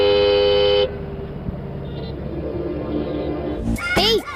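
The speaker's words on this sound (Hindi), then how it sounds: "हॉर्न सुनाई नहीं दे रहा क्या?" A car horn blares in a long steady honk in a movie scene, cutting off before a voice speaks and traffic noise continues underneath.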